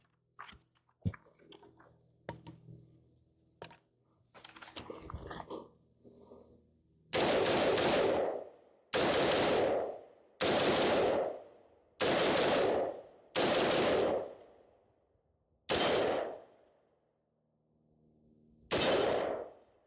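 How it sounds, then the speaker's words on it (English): A ZRO Delta Zulu 2 rifle firing 62-grain X-Tac green tip ammo: after a few scattered light knocks, seven loud, sharp reports ring out one at a time at a steady, unhurried pace, each trailing a short echo. "We are shooting some X-Tac green tip ammo here, 62 grain."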